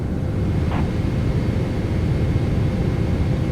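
A KLM Boeing 777-200ER landing at Rio after a flight from Amsterdam, a steady low jet engine roar with broadband rushing noise, constant in loudness and heard from fairly close.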